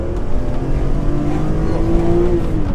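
BMW E46 M3 with an SMG gearbox pulling hard down a road, its engine note rising steadily and loud from inside the cabin, with a single brief gear change near the end.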